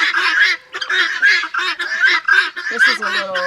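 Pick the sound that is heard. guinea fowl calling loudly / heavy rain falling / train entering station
guinea fowl calling loudly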